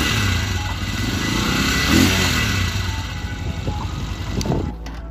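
A nearly new Italika 125Z motorcycle engine revs gently and briefly, a throaty yet smooth note swelling slightly mid-clip and easing off near the end, close and steady with no talk.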